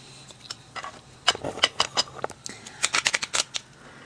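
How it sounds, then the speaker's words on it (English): Tarot cards being shuffled by hand in a quiet room, a run of crisp riffling flicks and soft slaps, sparse at first and then in quick bursts, close and clear with no talking. "Get these cards nice and shuffled up."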